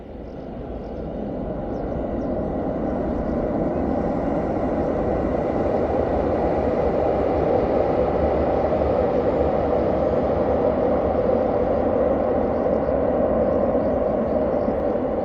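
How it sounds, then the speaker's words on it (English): A train rolls across a bridge in Warsaw, a broad continuous rumble swelling over the first couple of seconds and then holding steady and loud, with no talk over it. "Here's the train coming over the bridge right now."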